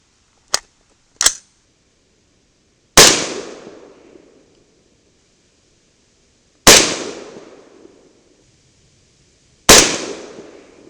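CMMG rifle in 300 Blackout with an 8-inch barrel firing 220-grain Sierra MatchKing subsonic rounds: two small sharp cracks, then three loud, close shots spaced a few seconds apart, each ringing out briefly.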